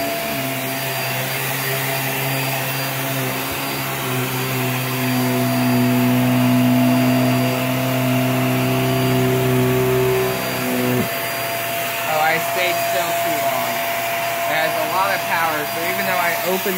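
A Hoover React Professional Pet vacuum cleaner running on hard floor and rug, with a loud, steady motor whine and airflow roar that shifts in pitch partway through. Rattling pickup noises come near the end.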